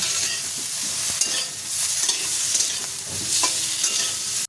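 Potato pieces frying in a pan after bitter gourd, a continuous close sizzle with occasional spatula stirring scrapes, no voices over it.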